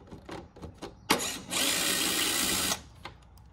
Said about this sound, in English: I'm just using my 90 degree Makita right angle and it's a T30.